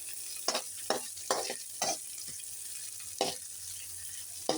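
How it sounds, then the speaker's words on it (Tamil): Finely chopped onion frying in a pan, a steady soft sizzle broken by repeated scraping stirs of a spoon, close and moderately quiet with no voices. "நம்ம கட் பண்ணி வச்சுருந்த ஒரு பெரிய வெங்காயம் பொடியாக நறுக்கினதை நம்ம வந்து இதில் போட்டுட்டு நல்லா இதை மிக்ஸ் பண்ணிடலாம்"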